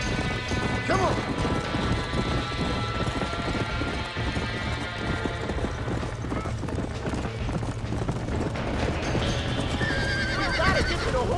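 Horses whinny and neigh loudly amid a steady clatter of hooves and crashing noises, busy and close throughout, in a burning barn in the video game Red Dead Redemption.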